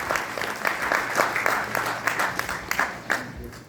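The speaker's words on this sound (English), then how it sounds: "give a huge round of applause to the team that has been behind this project" A crowd claps for a project team behind a new building, a loose scatter of individual claps under a murmur of room noise, with some voices mixed in.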